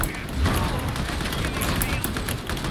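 Rapid gunfire from the co-op shooter Darktide, with dense bursts of shots crackling continuously and loudly amid a chaotic game battle.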